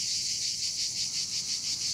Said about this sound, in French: Mais quoi de mieux pour la sieste que le chant des cigales pendant les vacances?